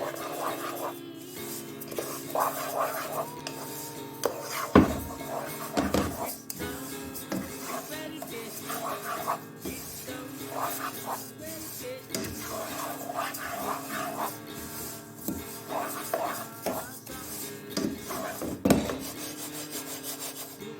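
Sesame seeds being dry-roasted in a pan and stirred with a spatula, making repeated close scraping and rasping strokes in an uneven rhythm, with occasional speech alongside.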